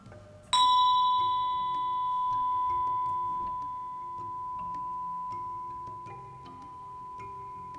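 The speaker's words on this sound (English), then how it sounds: "listening to the sound of the bell as intensely as you can" A meditation bell struck once during a yoga session, a bright clear ring that sustains and slowly fades over several seconds, with soft background noise and faint ticks around it.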